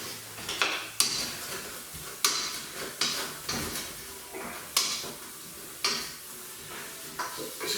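Onions cooking in a pan for a traditional Christmas red cabbage and apple dish, with repeated sharp scraping and stirring strokes every second or so over a soft, steady sizzle, close up.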